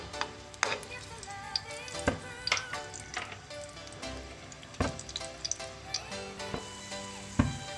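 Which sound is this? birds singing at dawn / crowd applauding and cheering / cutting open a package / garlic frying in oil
garlic frying in oil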